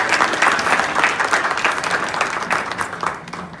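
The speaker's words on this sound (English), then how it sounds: "let's just give another applause to Quay." Audience applause for a speaker at an outdoor MLK march event, a dense burst of clapping that gradually thins and fades toward the end.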